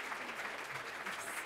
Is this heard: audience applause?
yes